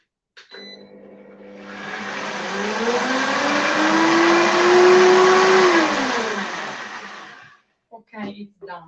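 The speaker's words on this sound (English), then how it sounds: "Scraping down with the spatula, and just blend it again." Optimum blender blending veggie lasagna ingredients, motor ramping up to a loud whine, peaking mid-run, then spinning down, with brief speech at the start and end.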